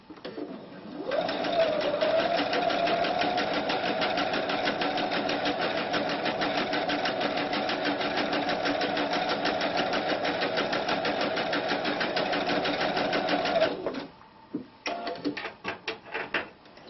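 A sewing machine fitted with a pintuck foot runs steadily for about thirteen seconds stitching pintucks, a fast even whirring chatter, then stops and gives a few short bursts and clicks.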